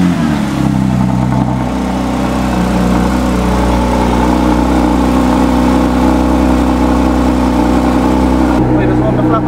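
A 2022 Porsche GT3 engine running loud and steady close by, with a constant deep rumble and a low idle throb that holds throughout without pauses.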